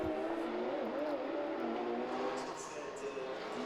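Porsche race cars of a Belgian team running one-two at Spa, a steady loud engine drone with shifting pitch throughout, under a faint crowd or commentary bed.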